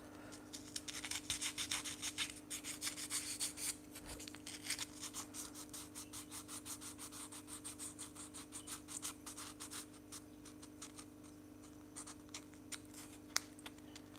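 A knife carves fine details into a basswood feather-shaped coffee spoon, making close, quiet, steady scraping and rasping strokes in a rapid rhythm with no talking.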